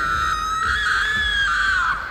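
A princess in an animated story lets out a sustained high-pitched scream that holds for about two seconds, loud and close, then cuts off.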